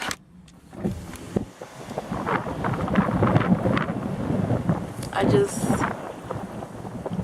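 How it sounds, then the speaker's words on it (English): Gusty wind in Arizona buffeting close to the microphone, rumbling and rising in waves, with a voice speaking faintly underneath. "it's really windy right now"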